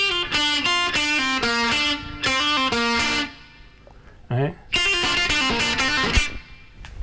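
An electric guitar plays a quick lick from a song, with crisp, rhythmic notes for about three seconds, a short pause with a brief voice, then the phrase returning up close.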